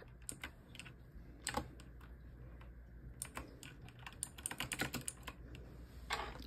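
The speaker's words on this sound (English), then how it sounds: "I just want you to type this into the search bar." Quick, uneven keystrokes on a computer keyboard, typing a query into a search bar; close, crisp clicks in bursts, with a pause mid-way and a final flurry, over a low steady room hum.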